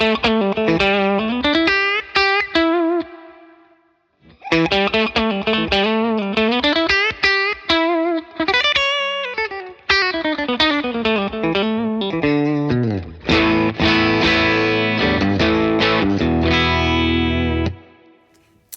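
Electric guitar with TV Jones pickups played through a Victory VC35 Copper amp with the gain turned up: loud, distorted riffs and chords in phrases broken by short pauses, ending in a thick sustained crunch.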